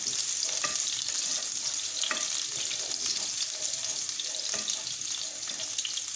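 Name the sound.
diced onion frying in a pan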